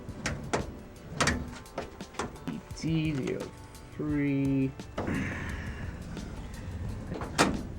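A drawer being pulled open and pushed shut during a hunt for TV parts, with sliding rumbles, clunks and rattles close by and a voice speaking in between.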